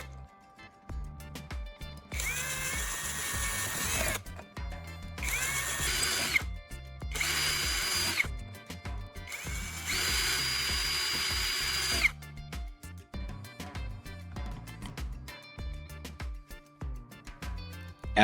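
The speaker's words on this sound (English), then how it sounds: "Using a smaller drill bit, I'm carefully drilling all the marked small holes." A small drill bit bores marked holes in a tuna can for a homemade mini stove: four loud, sustained bursts of whining drilling separated by short pauses, close up, with no talking.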